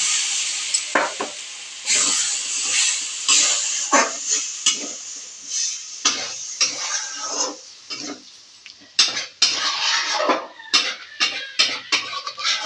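Fried eggs are stirred and mixed in a pan with a little water, giving a steady bright sizzle and hiss broken by repeated scraping strokes of a utensil against the pan.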